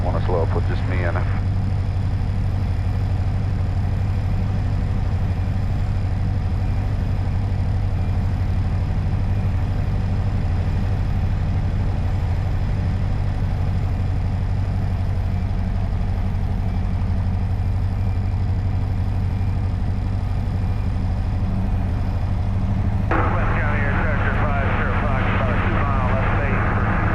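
A small airplane's engine drones steadily from inside the cockpit during solo traffic pattern flight, with a constant loud hum throughout and a pilot talking over it.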